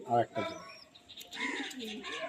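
Pigeons coo softly nearby, a low rolling call, while someone talks over and around them in a brief stretch.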